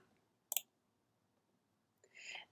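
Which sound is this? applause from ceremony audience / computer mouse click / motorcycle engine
computer mouse click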